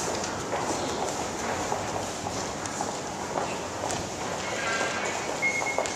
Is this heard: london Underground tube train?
yes